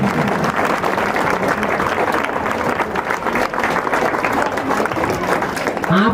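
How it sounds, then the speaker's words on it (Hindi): Audience applause at a school inauguration ceremony, a loud, continuous roar of crowd clapping that holds steady throughout with no pause, close and dense. "आपकी तालियों से गड़गड़ाहट होनी चाहिए"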